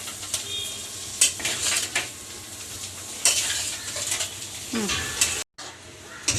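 Mashed potatoes being mixed into a hot vegetable mixture in a pan for bread pakoda filling, with close scraping and stirring strokes and soft sizzling in uneven bursts, followed by a brief cut to silence.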